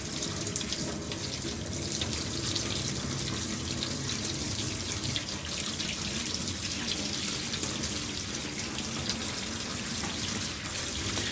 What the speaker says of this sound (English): The sink are working.